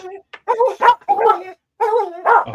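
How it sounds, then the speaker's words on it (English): Barks from a rescue dog, a few short yelping, hyena-like calls in quick succession, close and loud, with gaps of quiet between bursts. "He barks like a hyena, man."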